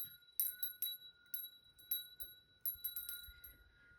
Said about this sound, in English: So let me go ahead and ring the bell.